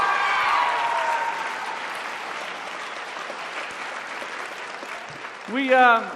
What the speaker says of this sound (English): how about another round of applause for our fitness and swimwear competition